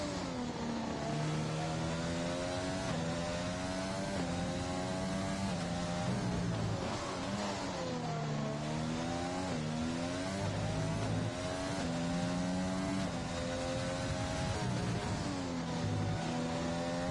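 Race car engine on a hot lap in a racing video game, a steady loud drone whose pitch climbs and drops repeatedly through gear changes and corners, with no voices.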